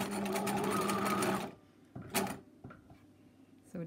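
A sewing machine stitches a buttonhole bar tack in a steady, fast, close-up mechanical run for about a second and a half, then stops, leaving a few quieter knocks and handling sounds.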